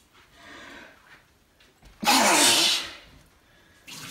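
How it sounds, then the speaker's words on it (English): A single sharp sneeze bursts out loudly close by in a kitchen while someone makes spaghetti, preceded and followed by quiet breathing and movement. "I'm gonna sneeze."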